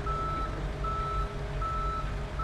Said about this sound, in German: Das sind zwei Abschleppwagen, sehr gut. Für beide Autos.